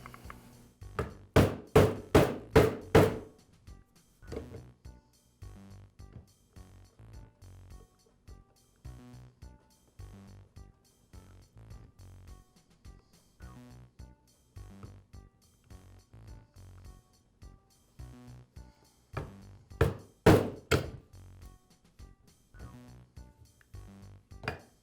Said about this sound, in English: I'll tap the housing against a block of wood until the gear starts to come out